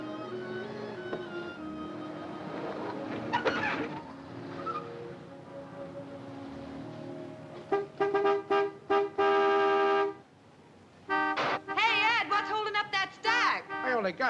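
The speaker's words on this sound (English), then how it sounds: "Some horn-happy creep just pulled in. Let him honk." A car horn honks in repeated short and long blasts from a vehicle pulling in at a 1955 setting, coming in bursts during the second half after a stretch of background talk and music.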